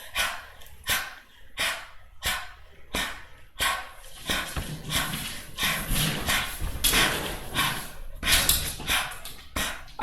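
Dog named Callie reacting with worried snorts and whines, starting as a regular series of short sharp bursts, then blurring into a denser run of snuffling and whimpering, close and moderately loud.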